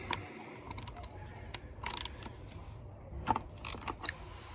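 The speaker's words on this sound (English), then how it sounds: "First up is to remove this bracket. 3 10mm bolts." A ratchet works loose 10 mm bracket bolts on the inlet manifold of a 2009 Jaguar X-Type 2.0 diesel, giving short, quiet bursts of close metallic clicking over a low background rumble.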